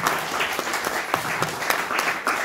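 An audience applauds at a Polish benefit evening honouring a poet, a steady, dense patter of many hands clapping throughout at a fairly close distance.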